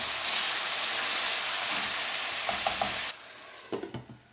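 Beef brisket fries hard in a single pot for a Madras curry, a steady loud sizzle that suddenly drops lower, followed by a few clinks and scrapes of a utensil against the pot.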